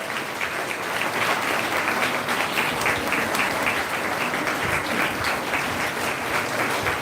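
A church congregation at a Sunday live service applauds a bishop as he comes forward. The crowd's clapping is loud, dense and steady throughout, with no break and no talking over it.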